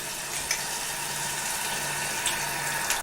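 Tap water running steadily into a cooking pot in a home kitchen, a soft continuous hiss with no voices over it.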